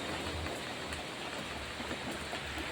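Heavy rain pours down in a steady, dense hiss that fills every moment evenly, with no speech and no other distinct sounds standing out.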